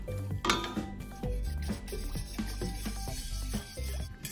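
A utensil stirs milk into pasta sauce in a bowl, making close, rhythmic scraping and clinking strokes against the dish in a steady repeated pattern, with no talk.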